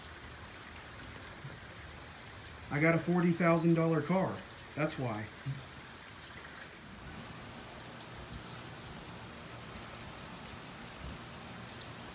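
Steady rain pours down during an electric thunderstorm, hissing evenly beside a flooded house, while someone speaks briefly over it partway through.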